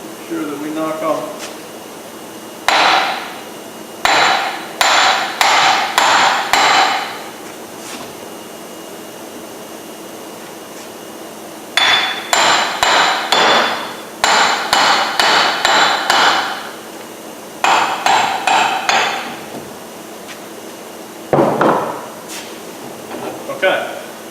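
Hammer strikes knocking the wheel bearing hub loose on a 1999 Jeep Grand Cherokee, ringing metal-on-metal hits in several quick bursts separated by pauses, close and loud, with a voice speaking briefly between them.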